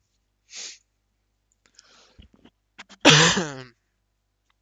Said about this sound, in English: Beg your pardon for that cough